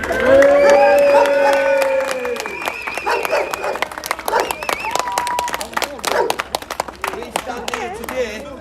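At a street demonstration in Rochdale, a crowd whoops and shouts loudly at first, then breaks into brisk, scattered clapping that continues with occasional cheers.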